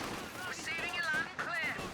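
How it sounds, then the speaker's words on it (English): Machine-gun suppressive fire from a Universal Carrier in the World War II strategy game Company of Heroes 2, with bursts of gunfire rattling steadily beneath a commentator's continuous talk. "Suppressive fire there from the Universal Carrier."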